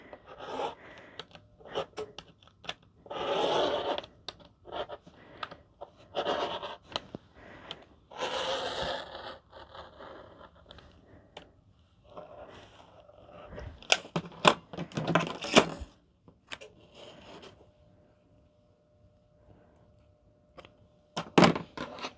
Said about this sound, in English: I'm gonna go ahead and cut this piece first before I put this away.